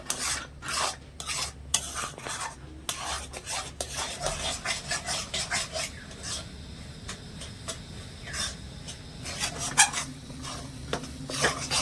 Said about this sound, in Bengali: সমানে কিন্তু নাড়তে থাকতে হবে নাহলে কিন্তু এই সাইডগুলোতে লেগে যাবে